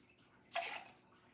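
Spirit, likely tequila, is carefully poured into a cocktail measure at a bar, a single short liquid splash lasting about half a second, faint and close against a quiet background.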